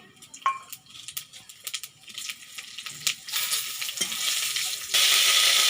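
Whole spices crackle and pop in hot oil in a village kitchen, close and busy, with scattered clicks that build into a louder continuous sizzle near the end.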